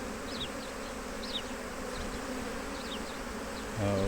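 Honeybees buzz steadily around an opened beehive during a colony inspection, with smoke used to calm them: a dense, continuous drone of many insects close by, ending with a brief louder swell.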